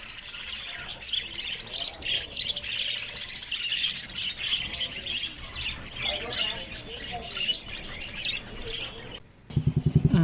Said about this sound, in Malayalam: ഇഷ്ടം പോലെ ലവ് ബേർഡ്സ്, നല്ല ഹെൽത്തി ആയിട്ടുള്ള അടിപൊളി ലവ് ബേർഡ്സ് ഇഷ്ടം പോലെ ഉണ്ട്